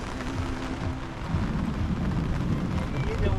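Rain falls at a cruise port as a ship docks at the start of a storm, a steady broadband hiss with a low rumble underneath that swells slightly louder partway through.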